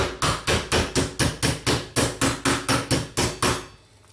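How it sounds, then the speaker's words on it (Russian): A meat mallet pounds pieces of meat for chops on a board, about fifteen loud evenly spaced thuds in quick steady rhythm, close up, then stopping. "Отбиваю с двух сторон."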